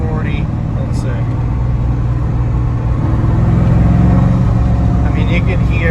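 A Porsche 996 with a twin-turbo LS swap, heard from inside the cabin while accelerating in fourth gear: a loud, continuous low engine drone under a voice, with no distinct peaks.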